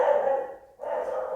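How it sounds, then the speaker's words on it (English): A dog indoors lets out two drawn-out barks or howls in quick succession, close and fairly loud, with a brief dip between them. "excuse the dog"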